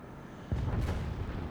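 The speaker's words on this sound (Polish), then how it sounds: "Spóźniony ten strzał." A tank cannon fires once in the War Thunder combat game, giving a single sudden deep boom with a rumbling tail that lingers after the shot.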